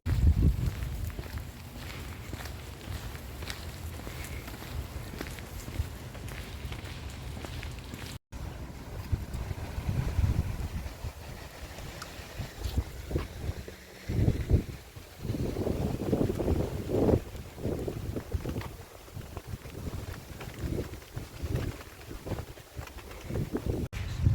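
Gusty wind buffets the microphone outdoors in the Netherlands, rising and falling in rough bursts, with faint footsteps and rustling underneath.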